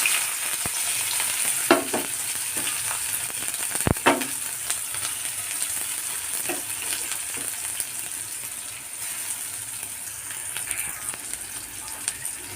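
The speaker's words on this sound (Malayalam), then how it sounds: "ഇനി കുറച്ച് കടുകാണ് ഇട്ട് ഇട്ട് കൊടുക്കുന്നത് ഇനി ചതച്ച് വെച്ച ചെറിയ ഉള്ളി ഉണക്കമുളക് വെളുത്തുള്ളി ഇട്ട് കൊടുക്കാം" Mustard seeds, crushed shallots, dried chili and garlic fry in hot oil with a steady bright sizzle, punctuated by a few sharp pops and spatters, close and continuous with no talk.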